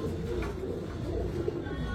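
Pigeons at a Bangladeshi pigeon market, among them fancy breeds such as silver, pankhi, military, racer, gorra and chila, coo in a steady low murmur. People talk nearby.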